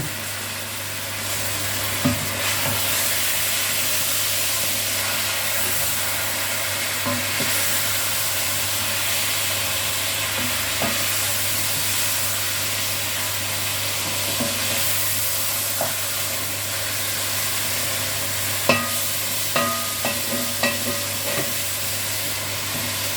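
Beef mince and chunks of beef fry in a pan with a steady sizzle, broken now and then by stirring scrapes and clinks, close and continuous with no talk.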